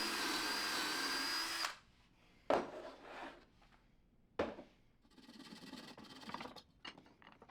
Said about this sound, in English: I use pocket hole drill bits to pre-drill for my dowels